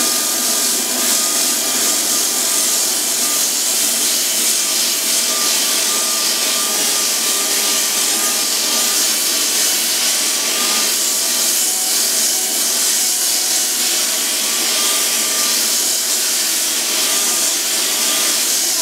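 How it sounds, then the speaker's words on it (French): An edge floor sander with LED lighting sands up to the edge of a floor, giving a steady, loud, high-pitched whine with a broad hiss that runs unbroken throughout. "Nous imaginons ici que nous allons poncer jusqu'au bord. Donc il suffit de laisser la machine travailler."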